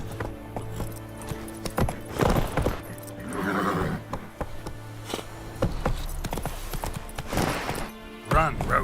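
Roach, a horse in the Witcher 3 video game, gallops with steady rhythmic hoofbeats and a whinny, mixed with game music and other in-game sounds, while a voice speaks over it.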